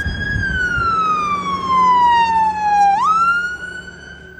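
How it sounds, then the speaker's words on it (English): An ambulance siren sweeps past in a Maryland residential neighborhood beside woods, its wailing tone gliding steadily down and then sharply back up, loud and close with steady road noise underneath. "You hear the sirens, friends."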